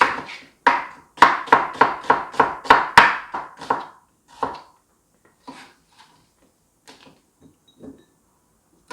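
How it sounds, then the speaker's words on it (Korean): Knife on a cutting board slicing an onion into thin strips, a quick run of about a dozen sharp, close chops followed by fainter, scattered cuts, with no talking. "양파 좀 이렇게 채 썰어 주시고"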